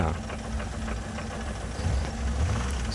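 A car engine idles with a steady rumble and a fast rattling knock, heard up close and continuously with no speech, from a car prone to stalling and breaking down on the road.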